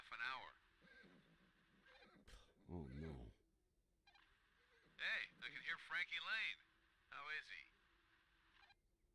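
A horse in the video game Alfred Hitchcock Vertigo gives a few short whinnies and snorts in bursts, close by, with quiet gaps between.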